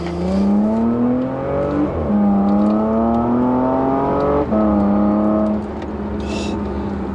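A Porsche Macan GTS engine revs hard and steady, its pitch climbing and then dropping sharply twice as it shifts gears, loud and close throughout.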